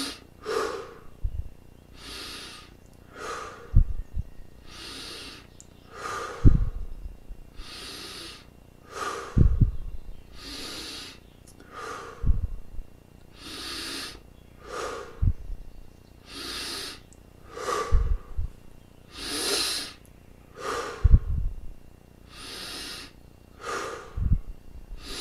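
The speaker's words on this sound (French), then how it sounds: "une vingtaine de grandes respires" A meditator takes deep breaths, slow and regular, each long inhale and exhale close to the listener and clearly audible, repeating about a dozen times in a calm, steady rhythm.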